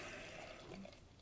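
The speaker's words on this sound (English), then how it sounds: "Give her a good pour." Pizza Boy Sunny Side Up bourbon barrel aged imperial beer pours into a glass with a close, steady liquid rush and light splashing, alone with no talk.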